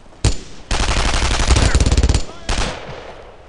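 Bursts of automatic gunfire from the World War II shooter Brothers in Arms: Road to Hill 30, with a short opening shot, a long sustained rattling volley, then another burst, loud and close.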